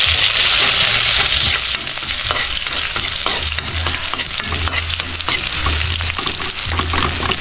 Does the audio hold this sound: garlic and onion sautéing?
yes